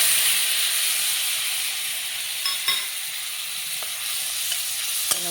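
Fish fat frying in a pan, giving a steady, fairly loud broadband sizzle throughout with a few brief pops and crackles, and no talking.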